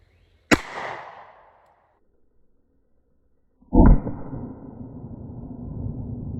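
A single sharp Glock pistol shot fired at a toilet outdoors cracks loudly and decays quickly, followed by quiet and then a second loud burst with a long noisy tail.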